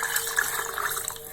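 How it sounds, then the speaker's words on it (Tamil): Water is poured over old cooked rice in a bowl, a short soft splashing trickle close by with no voices. "தண்ணி ஊற்றிக்கோங்க"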